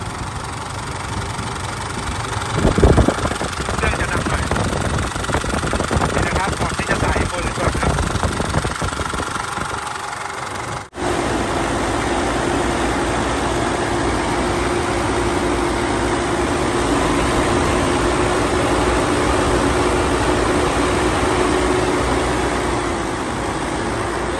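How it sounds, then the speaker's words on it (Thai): A 14-year-old car with a 2005 engine idles loudly and steadily in a rough, knocking drone, with a faint rattle early on and a brief dropout near the middle, while someone talks over it. "รถ 14 ปีเครื่อง2005 ก็จะมีอาการเสียงดังบ้างครับ"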